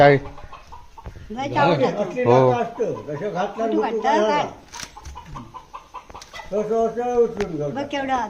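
A runaway rooster found again after five days, clucking and calling in short harmonic bursts near the microphone, mixed with people chattering close by.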